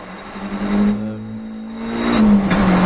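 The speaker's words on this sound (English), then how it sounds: "the car's spinning up in third gear there" A car on a wet Donington Park track day revs hard in third gear as its cold tyres spin up, the engine note droning steadily and then climbing, loud and close.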